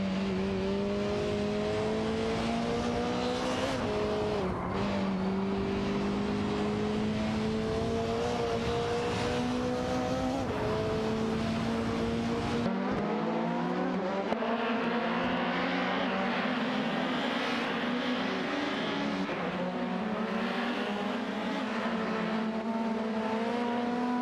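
In AI-driven racing, a race car such as a Nissan Primer 11P roars around a track, its engine a loud steady drone with pitch shifts through gear changes and a brief drop mid-way.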